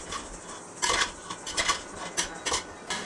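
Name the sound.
opening and stirring pot of egg biryani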